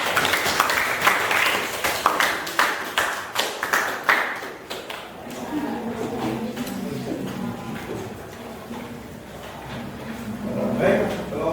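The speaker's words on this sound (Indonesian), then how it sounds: "Tepuk tangan." A classroom group claps after finishing a presentation, several seconds of brisk applause at moderate distance that thins out as voices and room chatter take over.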